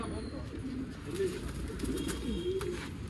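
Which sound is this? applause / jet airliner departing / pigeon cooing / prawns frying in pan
pigeon cooing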